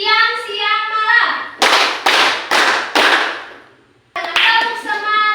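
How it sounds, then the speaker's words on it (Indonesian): A school class performs a rhythmic clap chant, children's chanting voices alternating with a series of loud, sharp group claps in a steady beat, then chanting resumes after a brief pause. "kita lakukan dulu tepuk pagi, siang, malam, dan semangat"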